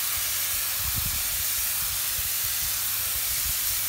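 Water spraying onto jalapeno pepper plants in a container garden, a steady loud hiss running throughout with faint low knocks beneath.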